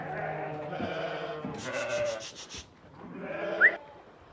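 A flock of sheep on a farm bleats in a mixed chorus of overlapping calls, moderately loud and close, with a brief higher cry near the end and no talking.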